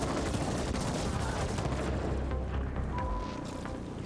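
Ray gun fire in The Ascent video game: a dense, continuous barrage of loud overlapping blasts and booms that thins slightly toward the end.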